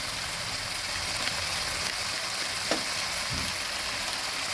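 Hilsa fish head curry with taro sizzles and fries in a pan as it is stirred, a steady close crackle with a few soft scraping strokes of the spoon and no voices.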